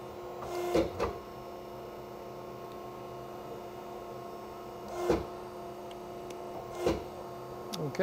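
An angle bending roll machine runs with a steady low mechanical hum, broken by a few short louder clunks from the rolls at spaced intervals.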